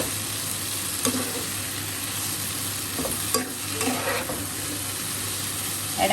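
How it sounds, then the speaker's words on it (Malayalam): Elephant foot yam (suran) pieces stir-fried in a pan on a high flame, giving a steady close sizzle with occasional scraping stirs, with no voices. "ഹൈ ഫ്ലെയിമിൽ തന്നെ വെച്ച് ഫ്രൈ ചെയ്യണം"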